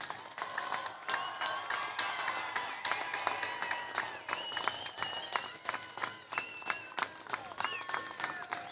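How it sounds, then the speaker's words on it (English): Sustained applause from a crowd at a high school career center senior celebration ceremony, honoring graduating seniors: dense, steady clapping fills the whole stretch at moderate distance with no talking over it. "Please stand as we honor you with applause to congratulate you on a job very well done."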